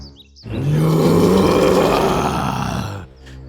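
A cartoon lion lets out one loud, sustained roar that swells and holds for about two and a half seconds before cutting off, from a children's bedtime fable about a lion, a mouse and a sleepy bear.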